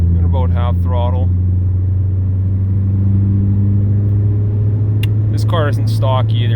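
A modified Volkswagen Jetta with a 1756 turbocharger, Colt Stage 3 camshaft, tune and 3-inch turbo-back exhaust pulls at half throttle in sixth gear while towing, giving a steady, loud, low engine drone with someone talking briefly over it at the start and end.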